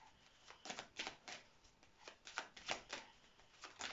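Playing cards handled and slid back into a deck, a series of soft, crisp riffles and flicks in short bursts, close and fairly quiet, with no talking.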